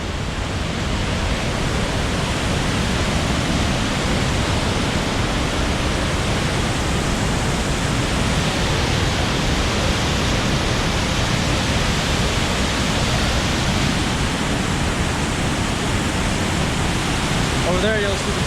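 The Great Falls of Paterson, a large waterfall over black basalt rock in New Jersey, roars as a steady, loud, broadband rush that holds unbroken from start to finish, with a faint voice briefly audible near the end.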